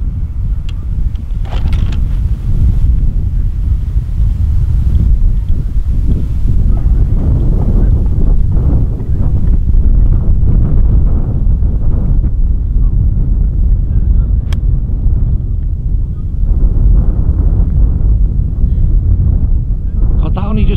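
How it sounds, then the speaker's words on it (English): Strong wind roars across a golf course in a heavy, continuous rumble of buffeting against the microphone, with people talking at times underneath. "that wind is strong, isn't it?"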